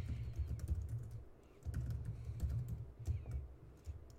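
Computer keyboard keys clattering in quick, uneven bursts while an email address is entered, with a short pause near the middle; close and fairly soft, with no voices.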